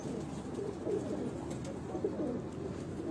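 Pigeons coo steadily at close range in a fancier's loft, a continuous low burbling murmur over the whole stretch with no talk.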